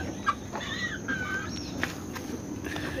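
Chicks in a home backyard flock give a few soft, short peeping clucks at moderate distance over a steady outdoor background hiss, with faint footsteps and no talking.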